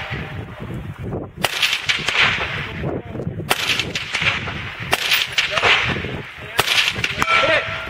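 M1 carbine shots ring out on an outdoor practical rifle stage, five sharp loud cracks spaced a second or so apart, each with a brief echo, while people talk quietly in between.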